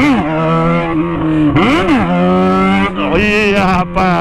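Yamaha XJ motorcycle engine revving hard during a wheelie, a loud sustained whine that rises and falls in pitch several times with throttle blips, close and continuous with no talk.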